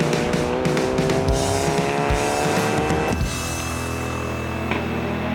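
Volkswagen Jetta GTC race cars roar past at Dezzi Raceway, engines screaming loud and close with layered revving pitches and tire squeal, one car's note dropping sharply as it passes before the next engine takes over.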